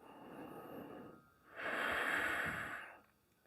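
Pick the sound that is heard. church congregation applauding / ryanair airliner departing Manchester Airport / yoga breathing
yoga breathing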